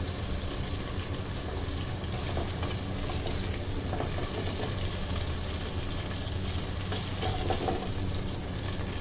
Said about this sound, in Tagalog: Dahil igigisa muna natin yung meat.